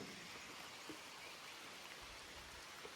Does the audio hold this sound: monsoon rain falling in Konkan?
yes